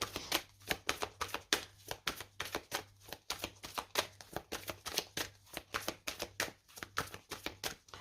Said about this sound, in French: on va terminer avec une carte.